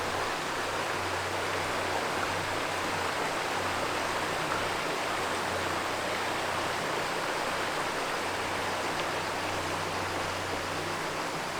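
Steady, dense rushing of a creek flowing nearby in West Virginia, constant and unbroken throughout, with no voices.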